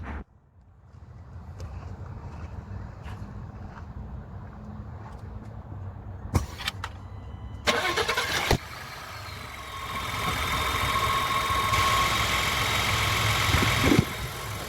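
After a quiet stretch with faint clicks, a 2020 Ford F-150 pickup engine cranks in short bursts, fires up, and settles into a steady low idle that grows slightly louder.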